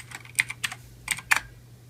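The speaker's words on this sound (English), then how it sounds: "Now you can type List Disk." Several quick keystrokes on a computer keyboard, clicking close and fairly soft in short clusters with pauses between, alone in a quiet room.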